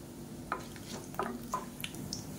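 Fennel seeds with bay leaf, cinnamon, cloves and stone flower crackle in hot oil for a Tamil varuval dish, a soft steady sizzle with a few sharp pops and stirring scrapes, fairly quiet and close.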